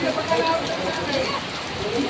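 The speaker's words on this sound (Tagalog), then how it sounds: "Malakas ang ulan." Steady heavy rain hisses as a dense wash of noise throughout at a livestock auction market in Lucena, Quezon, with voices talking faintly underneath.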